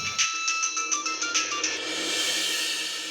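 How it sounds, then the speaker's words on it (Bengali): A phone ringtone for an incoming call chimes loudly and close in a quick, even series of bright electronic notes, then gives way to a sustained, noisy wash of tone. "বলতে বলতেই ওনার তরফ থেকে ফোন।"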